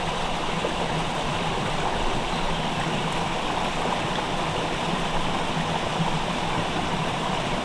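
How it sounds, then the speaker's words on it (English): A spring stream in the Michigan countryside runs steadily, a continuous broadband rush of flowing water close by, unbroken and even throughout with no voices or other sounds. "There's something about running water and listening to it."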